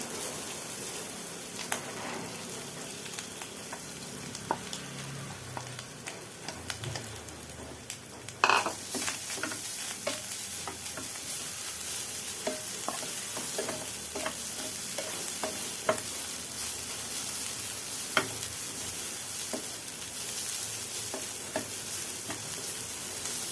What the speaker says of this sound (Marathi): आता यामध्ये थोडंसं आपण तूप टाकूया आणि हा खोबऱ्याचा खीस आहे तो आपण भाजून घेऊया